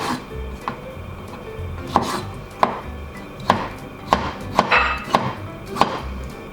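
A knife chops bamboo shoot (takenoko) into small bite-size pieces on a board, giving distinct, fairly close cuts at an uneven pace, about eight or nine sharp strikes with a low background rumble and no talking.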